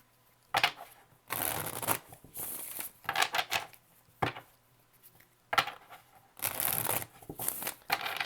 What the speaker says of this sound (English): Last shuffle for Gemini.